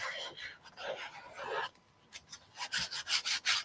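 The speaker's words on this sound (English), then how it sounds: "I'm just really going to burnish it well." A stencil is burnished onto a chunky canvas sign with firm rubbing strokes, close and scratchy, coming in uneven bursts with a brief pause midway.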